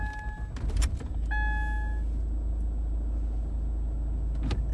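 A car on a farm is started. Short electronic chimes and beeps sound first, then a clunk and the crank as the engine catches. Near and fairly loud, it settles into a steady low idle rumble with no talking.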